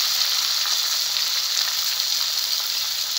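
Golden fried onions and finely chopped tomatoes crackle in a pan with a loud, dense, unbroken sizzle that holds level throughout. No voices can be heard.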